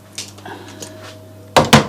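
The door of a CNC machine shut just before a machining run, heard as two loud, sharp knocks near the end after quiet shop background.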